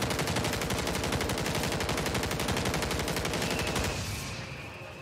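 Bruin gun in the video game MW3 Zombies firing in one long, rapid automatic burst, loud and close, with dense evenly spaced shots that cut off near the end and leave a fading tail.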